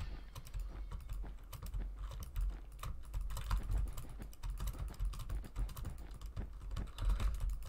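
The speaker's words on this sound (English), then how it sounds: "I like how in between pauses, I can hear Emerald's keyboard." Rapid computer keyboard typing clatters steadily through the whole stretch, dense bursts of keystrokes with brief pauses, close and fairly loud, during a Minecraft Bedwars livestream.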